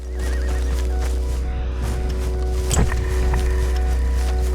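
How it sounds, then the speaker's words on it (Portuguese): A horse in the Red Dead Redemption 2 video game gives a loud, close whinny with clip-clop hooves around it, over a steady low game background hum and no talk. "Ó, que cavalo bonito aquele lá."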